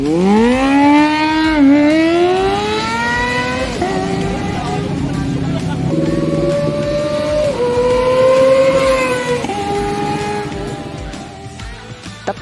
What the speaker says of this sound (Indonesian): Tentu akan menghasilkan suara yang meraung merdu seperti halnya motor super sport.